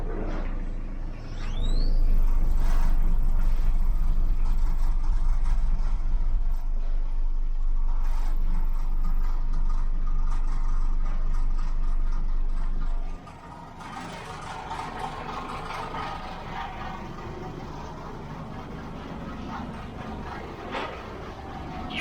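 Mitsubishi L200 pickup drivetrain and prop shaft running in third gear, a loud steady low rumble with mechanical whir that drops sharply in level partway through and continues quieter.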